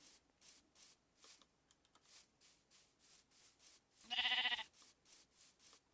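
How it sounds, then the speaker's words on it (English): One short bleat from a sheep in a video game, with cows nearby, rises near the end over a string of soft, evenly paced rubbing or shuffling sounds. "Got some sheep, some cows."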